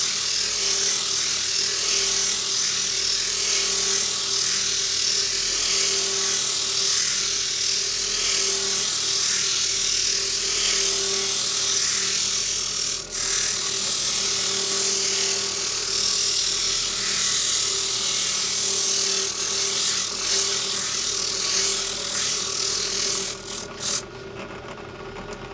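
A power tool sands down a foam tire insert toward a 2 1/2 inch diameter, giving a loud, steady whine and grinding buzz that runs continuously and cuts off near the end, with no talking.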